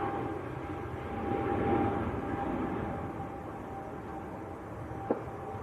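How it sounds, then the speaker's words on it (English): A KLM Airbus A321neo airliner bound for Amsterdam passes at Manchester Airport with a steady, distant broadband jet roar that swells and fades slightly, heard on its own. "A321 Neo."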